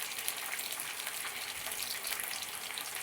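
Green chillies frying in a couple of spoons of hot oil, a steady dense crackling sizzle, faint to moderate and close, constant for the few seconds with no voices.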